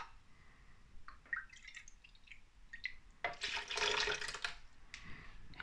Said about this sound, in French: On va aller rajouter un petit peu d'eau. Y aller avec une demi-tasse d'eau.